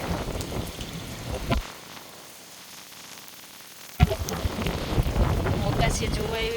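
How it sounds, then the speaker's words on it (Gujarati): Gusty wind and heavy rain sweep over a rooftop terrace during a thunderstorm, a broadband roar that drops away briefly mid-clip before surging back loud and blustery. "પવન પણ બહુ જ છે."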